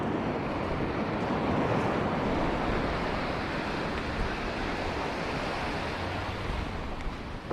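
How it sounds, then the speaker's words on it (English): Ocean surf breaks steadily on a beach on a day of brown, churned-up water, a continuous loud wash of waves with wind buffeting the microphone and no voices. "see where that little wave's breaking?"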